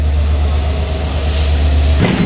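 The Padma Express intercity train pulls out of Rajshahi railway station with a loud, steady low rumble, a brief air-brake hiss rising midway and another burst of hiss near the end.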